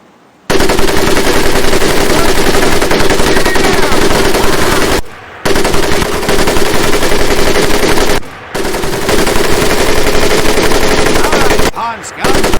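Machine gun fire on a training range in Medal of Honor: Pacific Assault, long loud sustained bursts of rapid shots broken by three brief pauses.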